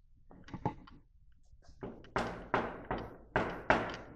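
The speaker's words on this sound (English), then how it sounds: "Okay, I'm gonna knock, okay?" A door is knocked on in a basement: a few soft taps first, then a series of five loud, evenly spaced hard knocks close by, each with a short ringing decay and no talking.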